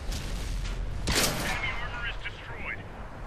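Tank cannon firing in World of Tanks on Xbox 360 from a Pz.Kpfw. V/IV, a single loud, sharp blast with a rumbling tail, followed by fainter battle sounds, with someone talking over it.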